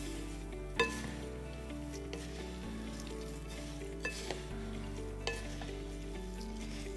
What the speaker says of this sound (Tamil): இந்த மசாலாவை நம்ம இதில் ஆட் பண்ணி அப்படியே ஸ்டிர் பண்ணி எடுத்துடலாம்.